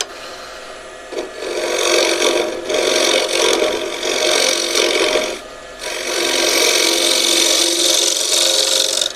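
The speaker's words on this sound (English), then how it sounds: "Or you can use another tool we sharpened, and that's the scraper." A sharpened scraper works a thin live-edge oak bowl on a lathe, giving close, raspy scraping passes that run several seconds each. Brief pauses separate the passes, and no one speaks.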